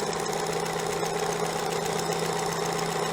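A Janome 634D sewing machine runs fast with a side cutter attachment trimming fabric edges, a steady close mechanical whir and rapid chatter that holds evenly throughout.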